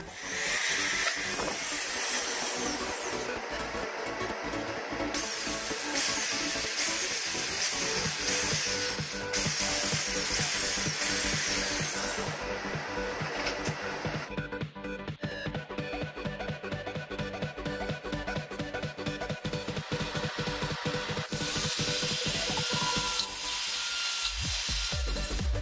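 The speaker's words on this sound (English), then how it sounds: "drill holes on the pipe for the power switch and the charging port" A drill bores holes in PVC pipe while a Bluetooth speaker is built at home, making a continuous harsh, hissing, grinding whir with rapid rattling pulses for over twenty seconds and no talking.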